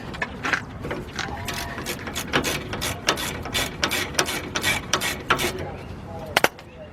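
A ratchet wrench works loose the 14mm bottom brake caliper bolt on a 2008 Toyota Solara, giving fast, close, repeated clicking strokes in a steady rhythm.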